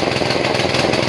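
A mini hand tractor engine runs steadily on light throttle, a loud, close, continuous chugging drone with a dense rhythmic pulse and no talk over it.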